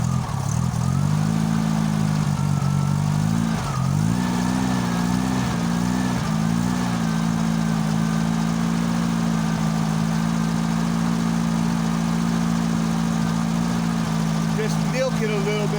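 A cold car engine idles right after a start without choke, running loud and continuous with a steady low hum. The pitch wavers unevenly early on before settling into a smoother idle, and talk is heard over it.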